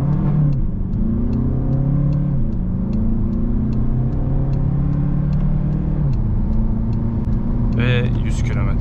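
A VW Passat 1.6 TDI diesel accelerates at full throttle, its engine note climbing steadily through the gears with brief drops at each shift, loud and close throughout, ending with a sharp higher squeal near the end.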